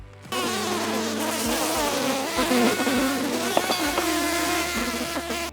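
Honeybees in a two-month-old colony hum in a dense, continuous buzz as the hive is opened. The sound is loud and close, with overlapping wingbeat drones and no voices.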